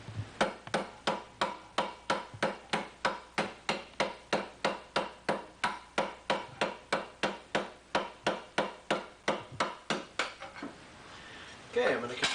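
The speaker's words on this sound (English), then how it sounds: "hammering it down on the bighorn." Steady rhythmic hammer blows ring out on a steel armour edge being turned over the bighorn of an anvil, about two to three sharp metallic strikes per second, close and loud, ending with some scraping.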